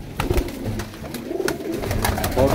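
Pigeons kept for sale in Faisalabad, golden birds among them, cooing close by in short throaty bursts, a few calls overlapping in a brief stretch with no talk.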